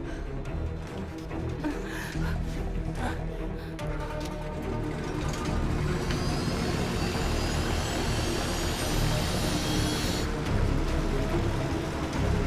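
An airplane takes off and flies with a loud, sustained jet-engine roar that builds. A rising high whine enters partway through and then cuts back, and the roar stays up close with no voice.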